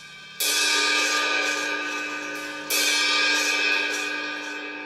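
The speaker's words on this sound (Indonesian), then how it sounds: "Yang berikutnya crash." Crash cymbal, typically 20 inch, on a drum kit, struck twice a couple of seconds apart, each hit a bright loud wash that rings and slowly decays, close and alone.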